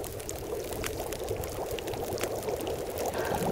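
Water pours steadily in The Long Dark as a survivor collects a drink, a continuous close splashing stream that swells slightly toward the end, with no talking.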